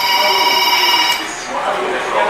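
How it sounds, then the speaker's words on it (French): A telephone rings again and again in a fire brigade operations office, its bright electronic trill sitting behind continuous French narration. "le téléphone ne cesse de sonner"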